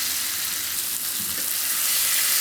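Paneer is stirred and fried in a pan, producing a steady, dense sizzle with soft stirring movements throughout and no voices.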